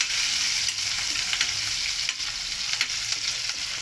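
Garlic browns in hot oil in a pan, giving a dense continuous hiss with faint crackles and occasional stirring scrapes, close by and without speech.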